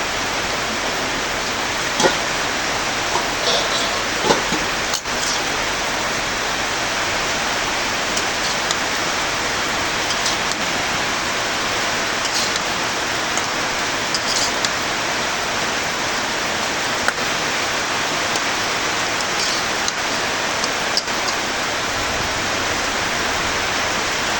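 Rain falling as an even, unbroken hiss that holds steady throughout, moderately loud and close, with scattered faint ticks of drops and no voices.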